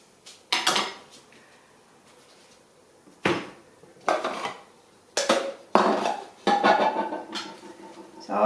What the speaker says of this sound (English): So I'll just chop this a little bit thinner.